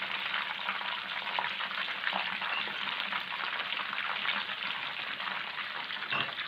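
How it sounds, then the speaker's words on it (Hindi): Steady, dense sizzle of finger fish pieces frying in hot oil for a restaurant-style masala fish fry, loud and continuous throughout with no speech. "ऊपर से ये इसका जो क्रस्ट है ये फूल रहा है और ये बेहतरीन फ्राई हो रही है"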